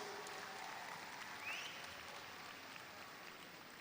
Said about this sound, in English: give a round of applause to your family members, your spouses